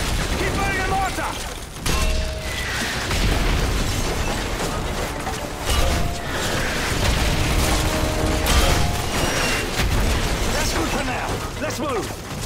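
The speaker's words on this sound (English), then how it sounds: "If it moves, put a mortar shell on it. Keep burning the mortar." Mortar shells burst in a combat video game as a village is shelled, with repeated booms and blasts layered over constant battle noise and mechanical clatter, while voices talk through the chaos.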